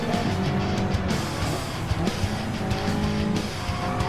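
Race cars in a racing video game crowding into turn one, engines roaring together with tire squeal and skidding as one car oversteers, a dense continuous close mix with no voices.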